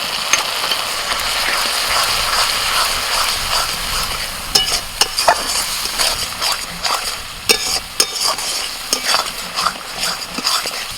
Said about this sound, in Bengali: মশলাটা দু চার মিনিট একটু কষিয়ে নিয়ে হালকা যখন তেল ছাড়া ছাড়া হয়ে আসবে